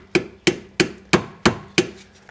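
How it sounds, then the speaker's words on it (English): A hammer taps a screwdriver wedged into the rear differential cover seam of a 2002-2007 Jeep Liberty, six sharp metallic knocks in a steady rhythm about a third of a second apart, close and alone. "Take my hammer, tap on it,"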